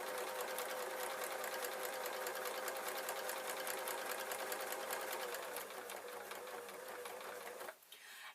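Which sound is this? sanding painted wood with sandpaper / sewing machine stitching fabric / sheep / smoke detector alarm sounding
sewing machine stitching fabric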